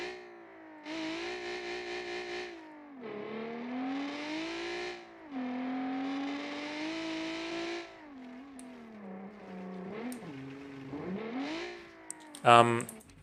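A loud Group B rally car in a racing video game revs and shifts through rising and falling engine tones, with a sharp burst of noise at the very end.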